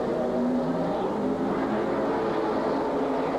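Race cars speeding around the Silver Spring Speedway oval during a 1992 race, a dense, continuous roar of several engines held at high revs, loud and close with no gaps.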